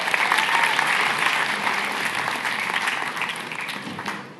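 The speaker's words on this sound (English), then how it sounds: "Can we give her a round of applause?" A crowd at a tech festival held at the Royal Institution applauds in a dense, sustained round of clapping that slowly tapers toward the end.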